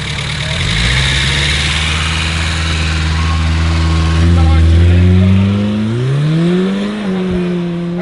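A car engine revs up and holds, its pitch climbing and falling through several swells before settling back toward idle, loud and close, while a voice talks over it.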